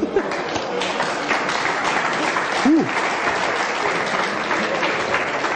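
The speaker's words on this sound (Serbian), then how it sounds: "Stevan Đaković iz Trstenika, jedan veliki aplauz" Sustained, dense applause from a studio audience on the Serbian TV quiz show Who Wants to Be a Millionaire, steady and loud throughout, with a brief tonal voice-like sound rising over it midway.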